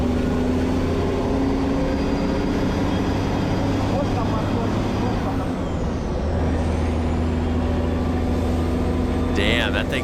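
An old European bus engine labouring through a hillclimb event, a loud steady diesel drone with a sustained low hum and a brief hiss near the end.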